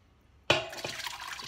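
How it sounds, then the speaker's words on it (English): Crushed bone broth made in a pressure cooker is poured into a food mill, starting with a sudden splash and then a steady liquid pour with soft glugs, near and fairly quiet, without any talk. "Just pour this crushed bone broth"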